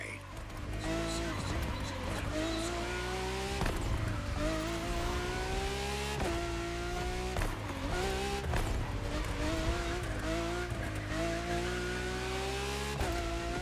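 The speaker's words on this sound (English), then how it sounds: "for this second lap, you'll be driving the FXXK." Ferrari FXX K supercar from The Crew Motorfest on PS5, a steady loud engine drone with rising gear-shift sweeps and repeated upshifts across the lap, with game sound and possible talk mixed in.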